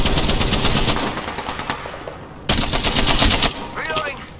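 Rapid automatic gunfire in the battle royale video game Apex Legends, dense bursts of machine-gun fire, a brief lull near the middle and then loud renewed shooting with bright metallic ringing, from several directions at once.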